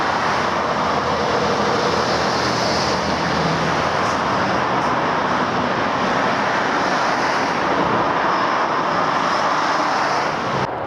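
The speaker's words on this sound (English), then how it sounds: "the traffic noise spoils it a little bit" Steady, continuous roar of traffic on a dual carriageway near Orpington, heard from mixed woodland nearby, a broad unbroken wash of tyre and engine noise filling the whole stretch without voices.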